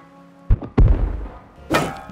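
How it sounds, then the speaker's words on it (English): In a submarine video game, a torpedo is fired at a tugboat: a sharp launch thunk, a heavier booming thud with a short rumbling tail, then a burst of hissing impact noise near the end. "I'm gonna fire a torpedo at the tugboat."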